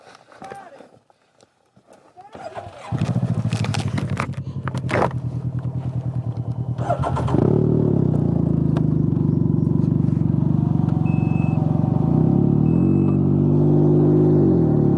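A three-wheeled motorcycle engine starts after a few faint knocks, then idles loudly and steadily, rising slightly in pitch partway through.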